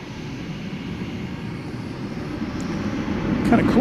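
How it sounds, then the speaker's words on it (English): A Qantas airliner wearing its 100-year livery takes off from runway 18 right at DFW Airport at night, its engine roar a low, distant rumble that slowly swells louder toward the end. "Kind of cool to see the Qantas take off from there with its 100-year livery."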